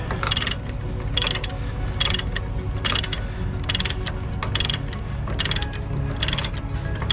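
Ratchet strap cranked tight around a conduit reel: repeated bursts of sharp metallic clicking come in quick pawl strokes over a steady low background rumble, fairly close and loud.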